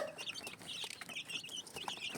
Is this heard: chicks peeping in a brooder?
yes